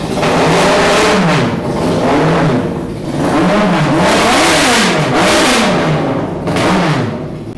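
A quad bike fitted with a Yamaha R1 motorcycle engine revs hard and loud up close, the pitch rising and falling in repeated swells with a rough, slightly uneven running note.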